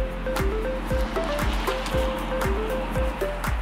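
Rushing water from a waterfall in Yoro Valley, a steady broadband roar throughout, with a regular low thumping pulse and faint tonal bleeps mixed in.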